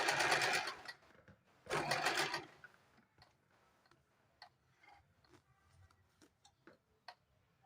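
A sewing machine stitches a folded strip of blouse fabric in two loud, steady bursts, then falls to soft, scattered mechanical ticks and clicks. No one speaks.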